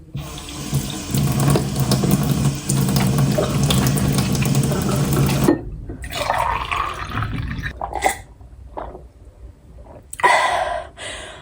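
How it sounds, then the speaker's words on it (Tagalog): A kitchen tap in a home in Japan runs steadily as hands are washed beneath it, then shuts off, leaving a few light clatters and drips. "hugas muna ako ng kamay"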